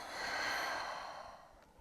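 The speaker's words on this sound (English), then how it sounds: "And a slow exhale out of the nose or mouth." A slow, soft exhale through the nose or mouth during a yoga session, a single breathy whoosh swelling and then fading, close and quiet.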